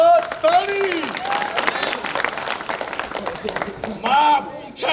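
Audience clapping at a Sindhi stage drama in an arts council hall, scattered bursts of clapping mixed with loud voices and shouting from the stage, rising and falling throughout.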